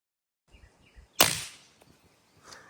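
A single sharp report of a 300 Blackout rifle firing subsonic ammunition into drywall, a quiet crack standing alone after a few soft handling noises, followed by faint clicks.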